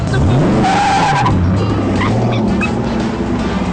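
A race car starting its drive roars loudly and continuously up close, with engine pitch rising and falling and tire noise, while people talk and a dog yips in the background.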